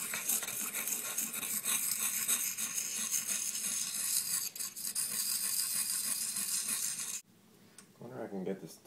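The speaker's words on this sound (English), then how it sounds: "at least now when I'm sharpening it" Repeated rasping strokes come from a small old antler-handled knife being sharpened, an uneven scraping rhythm up close that stops near the end, leaving a quieter stretch with light handling noise.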